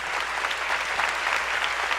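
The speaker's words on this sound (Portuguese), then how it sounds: "Vamos aplaudir o Senhor Jesus bem forte" Church congregation applauding Jesus during a Portuguese-language worship service, a steady wash of dense clapping throughout, moderately loud with no voices on top.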